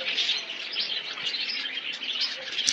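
Budgerigars chirp busily in cages at a bird farm, a dense, steady chatter of many small birds close by with no talk over it.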